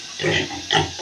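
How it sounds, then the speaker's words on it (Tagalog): Pet domestic pigs grunting and snorting after their lunch, a couple of short nasal grunts close to the listener. "At ito po yung aking mga alagang baboy."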